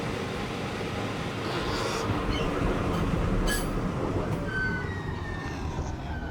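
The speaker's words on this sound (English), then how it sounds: "The OBB locomotive that we get here goes to the other side of the train" EuroNight train rolling on rails near Buchs, Switzerland: a steady, loud rumble of wheels with brief squeals and clatters, no voices.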